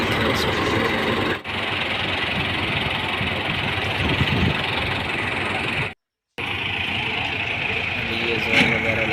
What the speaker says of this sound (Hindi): ट्रैक्टर भी अब जोर लगा रहा है और हार्वेस्टर भी अपना जोर लगा रहे हैं।